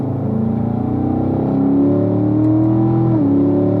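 A car accelerates at full power down a track straight, its engine note climbing in a continuous loud drone with rising harmonics, briefly dipping at a gear change before pulling on.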